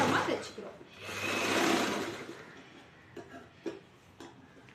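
A sewing machine stitches along the edge of a blouse, running in a steady whir for about two seconds, then stopping and giving a few short clicks and taps as the fabric is turned.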